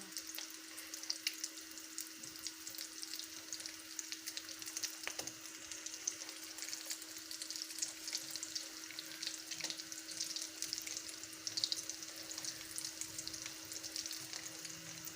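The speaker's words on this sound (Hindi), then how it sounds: "बस थोड़ा सा और हम इनको फ्राई करेंगे" Chicken malai cutlets frying in a pan of oil give a steady, close sizzle with a bright crackling hiss that holds evenly throughout, with no voices.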